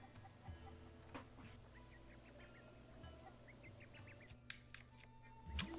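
Soft chicken clucks from Zelda: Breath of the Wild come in short repeated bursts over a low game background hum, quiet and steady.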